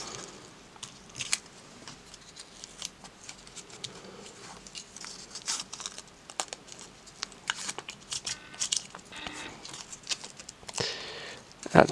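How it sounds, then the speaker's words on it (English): Tape is wrapped around Telecaster guitar pickup magnets, producing close, quiet crinkling, tearing and sticky peeling sounds in irregular bursts over about twelve seconds, with a sharper rip at the end. "the best way is to grab some tape and to tape around them"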